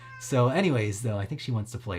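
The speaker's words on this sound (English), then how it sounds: "My cat, you might hear her in the background." A pet cat meows repeatedly in the background, rising and falling cries that are mixed in under someone talking close to the microphone.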